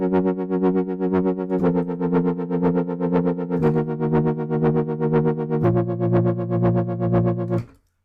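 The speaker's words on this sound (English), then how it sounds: "we could have a second LFO to control the distortion" A synthesizer plays sustained, buzzy distorted chords whose grit pulses with a second LFO modulating the distortion, the pitch stepping down several times over eight seconds before cutting off abruptly.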